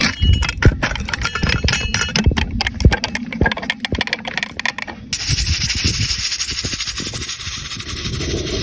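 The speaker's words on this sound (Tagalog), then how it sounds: "Pressure cooker muna natin ng siguro mga 15 minutes or 20 minutes." Pressure cooker boiling chopped beef for adobo: a scatter of metallic clinks and knocks first, then a loud, steady hiss of escaping steam that carries on unbroken.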